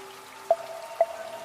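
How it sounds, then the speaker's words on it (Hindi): Rain in an animated horror story, a faint steady patter with a few distinct drips landing at regular half-second intervals, heard alone without any voices. "बारिश की आवाज और कमरे में अजीब सी बेचैनी"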